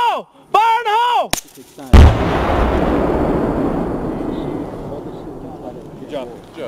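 A C4 explosive charge detonates during army demolition training, a single huge close boom that follows shouted warnings and rolls into a long fading rumble, with voices before and after.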